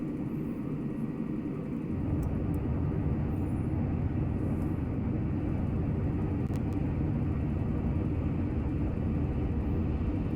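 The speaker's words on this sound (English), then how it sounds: "Back into burner for a little bit, gain some speed as we shoot up in altitude." An F-104 jet on afterburner climbs away from Edwards in Microsoft Flight Simulator 2020, giving a constant, loud, broad engine roar that holds steady throughout with no talk.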